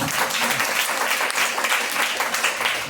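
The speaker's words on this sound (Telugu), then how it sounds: "గట్టిగా చప్పట్లు కొడదాం" A church congregation in Vikarabad breaks into loud, sustained applause, a dense wash of many hands clapping together for the full stretch.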